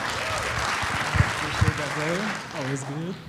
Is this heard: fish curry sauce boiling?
no